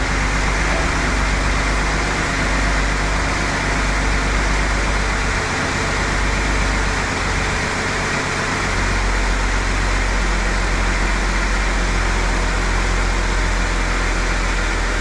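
A steady Jeep engine idles continuously for the whole stretch, a constant low rumble with a broad whooshing hiss over it and no pauses.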